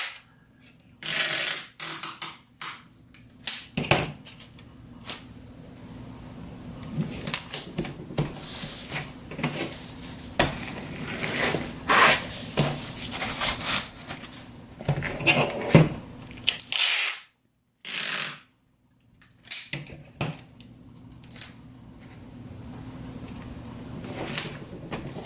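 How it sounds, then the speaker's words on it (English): Packing tape is pulled and pressed onto a cardboard package box in repeated loud ripping screeches and crackles, close by, with short pauses and one longer silent gap partway through. "we're going to tape this side and the other"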